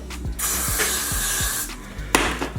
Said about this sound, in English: I'll spray my lace lightly